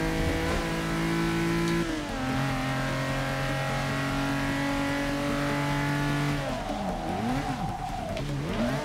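A race car engine in Forza Motorsport 6 drones and revs steadily, its pitch stepping down through gear changes and then dipping and climbing again, loud and continuous with no talking.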